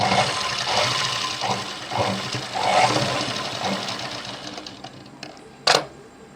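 A sewing machine runs in steady whirring bursts while stitching the folded fabric of a long frock, close and fairly loud, with brief pauses and a sharp click near the end.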